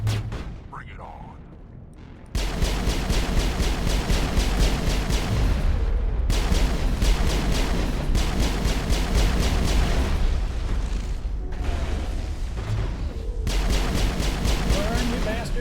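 Pistol fire in Mass Effect during a battle, heavy booming shots and blasts in a dense, loud barrage that continues almost without pause after a quieter opening.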